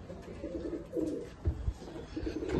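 Madras pigeons cooing softly in a few low, rounded phrases, close by and moderately quiet, with light background noise and no talk.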